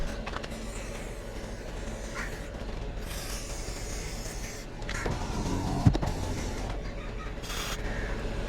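A car's electric power window motor drives the door glass up and down, a steady mechanical whir with soft rubber-seal rubbing and a brief click partway through, recorded close to the door.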